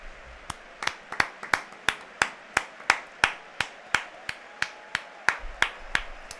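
A single person claps slowly and deliberately during a live FC Barcelona vs Newcastle Champions League stream, sharp isolated claps in an even rhythm, close and distinct against a quiet background.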